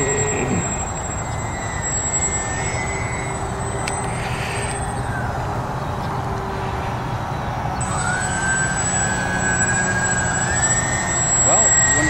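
A Canadair CL415 amphibious aircraft on its maiden flight takes off with a loud, continuous engine drone that swells slightly near the end, while people talk throughout.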